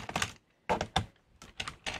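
Screws being worked out of the underside of an HP or Apple laptop during a teardown: six short, sharp clicking bursts in uneven pairs with brief gaps, close and fairly quiet, with no talking.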